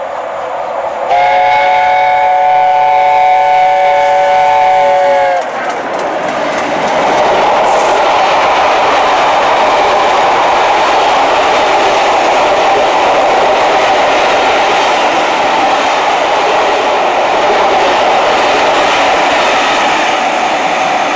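Steam train passing through a station, opening with a loud sustained whistle blast of several seconds, then a heavy, continuous roar and rumble of the train going by close at hand.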